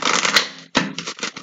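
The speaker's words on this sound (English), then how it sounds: "That was a crappy shuffle, Rena." A deck of tarot cards riffled in a quick burst, a short pause, then a few more brisk fluttering shuffles, close and fairly loud with no talking.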